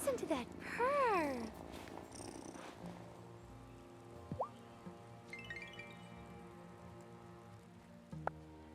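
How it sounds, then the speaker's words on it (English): A cat purrs in the Wylde Flowers video game, a soft continuous rumble under gentle game music and light dripping rain, with a few brief squeaky tones early on. "Listen to that purr."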